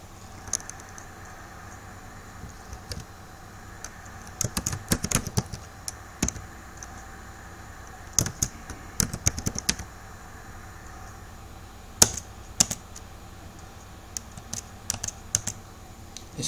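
Typing on a computer keyboard in a word processor, sparse clusters of sharp key clicks scattered over a faint steady background hum, close and with no voices.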